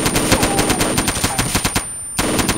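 Rapid automatic gunfire in the video game ArmA 2 rattles in fast bursts, loud and close, with a brief pause before the shooting resumes.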